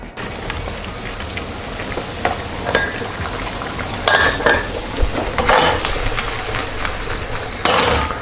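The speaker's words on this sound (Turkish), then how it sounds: "Demin kullandığımız soğan kavurduğumuz tavaya tekrar bu sefer ıspanakla beraber kavurmak üzere soğan koyuyorum." Chopped onion frying in a pan, with spinach to be added, gives a steady sizzle broken by louder scraping and stirring bursts, close by and with no talking.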